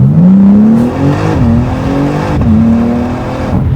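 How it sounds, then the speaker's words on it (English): A BMW CSL, an all-wheel-drive car, accelerates hard in fourth gear, its loud engine note rising steadily with brief dips at the shifts, heard continuously from close by. "Fourth gear acceleration."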